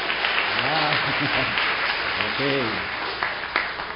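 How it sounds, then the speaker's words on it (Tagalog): A church congregation's applause fills the room, steady and sustained, while someone speaks briefly over the clapping. "Baka gusto niyong ulitin yung palakpak para magandang pakinggan."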